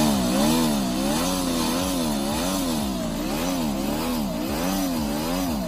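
A tiny petrol engine built for toy cars runs steadily with a high, buzzing drone that wavers rhythmically in pitch, loud and close, with no voices.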